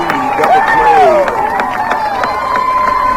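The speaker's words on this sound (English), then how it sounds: "you hear the Beaver crowd get excited" Home crowd at a high school baseball quarterfinal, Beaver vs. South Sevier, cheering and shouting after a 6-4-3 double play, a lively swell of voices with scattered claps and whistles, fairly close, under a commentator's talk.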